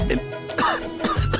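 A person coughs at close range in a short run of harsh, throaty bursts, two strong hacks separated by a brief pause, with a low steady background hum and no talking.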